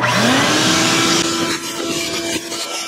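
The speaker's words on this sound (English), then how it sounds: "I'm going to reach in here with a shop vac and vacuum out all the dust and debris that I can see in there" A shop vac sucks dust and debris out of a Toyota Corolla's engine air filter housing, a loud close motor whine with a shifting pitched tone as the nozzle moves, steady for the full stretch with no talking.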